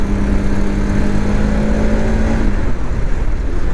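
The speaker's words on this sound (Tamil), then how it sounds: "வண்டியோட சவுண்டுமே வந்து பயங்கரமாக இருக்குது கைஸ்" A fully modified Bajaj RS200 motorcycle engine roars loud and close, a steady heavy drone with a sustained tone that drops away near the end, no talk over it.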